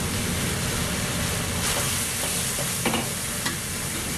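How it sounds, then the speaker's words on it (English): Pea pods and green onion stir-fry in a pan for Cantonese shrimp chow mein, giving a steady close sizzle with a few short scraping stirs. "now we're gonna put the pea pod and the green onion into it"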